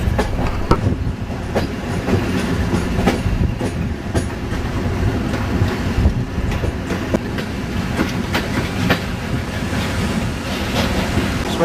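A train pulling the short distance into Krakow station after its engine was turned round, heard as a steady, loud rumble of rolling wheels and carriage noise with wind buffeting the microphone and no speech.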